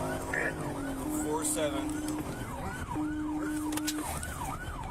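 Emergency vehicle siren wailing in a rapid, repeating up-and-down sweep on a road, fairly close, with steady horn-like tones and a radio voice speaking over it.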